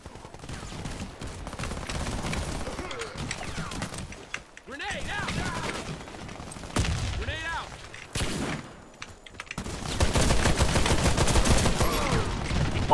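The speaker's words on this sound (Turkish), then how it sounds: "Abi bir tanesini vuruyorum." An HCAR automatic rifle in the video game Warface fires in rapid bursts mixed with other gunfire and game effects, loud and choppy with short pauses, while someone talks over it in Turkish.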